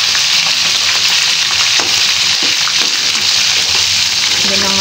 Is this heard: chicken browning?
yes